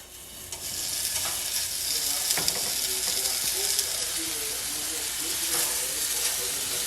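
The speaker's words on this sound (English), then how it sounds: "Now that our pot is warm, we're gonna drop our patties." Salisbury steak patties dropped into a warm pot start sizzling, a steady close frying hiss with spitting crackles and a few soft knocks as the meat goes in, fairly quiet and uninterrupted.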